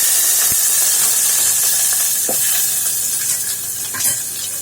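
Fenugreek seeds and onion fry in oil in a pan for sambar, with mustard seeds already in. A steady close sizzle and hiss runs throughout, broken by a few soft stirring knocks and scrapes.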